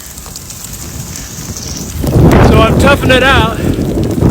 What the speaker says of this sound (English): I got caught out in the rain shower.